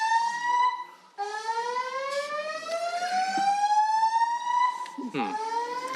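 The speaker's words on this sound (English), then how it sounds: "The freaking fire alarm went off." A building's fire alarm wails in loud, repeating rising tones that sweep upward, with a brief break after about a second before the alarm resumes and carries on steadily.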